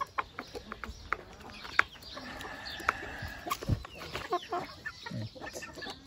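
Chickens cluck in scattered, fairly faint bursts while being fed a snack, with sharp little calls popping up over a soft, rustling yard background.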